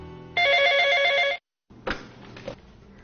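A telephone rings in one sustained electronic trill lasting about a second, followed by a brief silence and then soft handling clicks and rustle as a call is placed to a police command centre.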